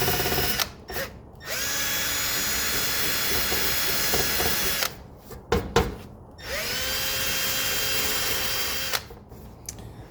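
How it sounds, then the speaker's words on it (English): Power sander working spots off an engine part of a 1982 Mercedes 300SD diesel, loud continuous whining runs in three long bursts separated by brief pauses and handling clatter. "I've got all those little spots sanded down"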